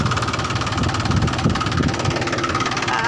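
A tractor engine idles on a muddy farm field, giving a steady, close, continuous rumble with a rough knocking texture and no voices.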